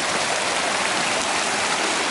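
Loud, close, continuous rushing of a creek on the North Fork of the South Platte River, a gold-bearing mountain stream in high country, filling the sound alone.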